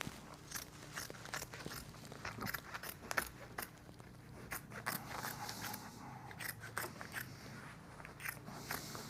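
Quiet, irregular snips and crunchy cuts sound as sofa upholstery fabric on a Parker Knoll sofa is cut and trimmed, with scattered sharp clicks between soft rustling.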